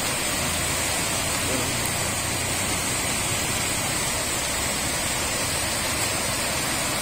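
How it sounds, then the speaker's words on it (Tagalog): Strong typhoon floodwater rushes beneath a bridge on the road toward Navarro, a steady loud broadband roar of churning water with no break across the whole stretch. "tingnan mo, lakas pa lang ang tubig eh"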